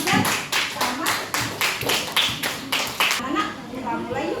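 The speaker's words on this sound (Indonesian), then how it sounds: "Oke, tepuk tangan buat Abizar sama" A class of schoolchildren claps their hands in a steady, fast rhythm of sharp slaps for about three seconds, then stops, leaving a quieter room with faint voices.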